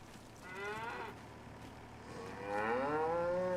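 Cattle low on a farm in Farming Simulator 25, with two drawn-out moos, one short and one longer and louder, over a faint steady background hum.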